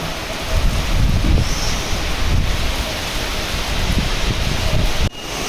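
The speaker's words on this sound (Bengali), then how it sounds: "খুব জোরে বৃষ্টিটা হচ্ছে।" Heavy rain pouring down outdoors, a loud continuous roar with gusty buffeting across the whole stretch and a brief dip near the end.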